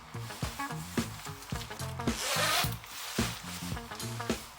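A zipper on a men's jacket is worked open in a series of short, rasping zips, close and quiet, with small clicks and rustles of fabric between the pulls.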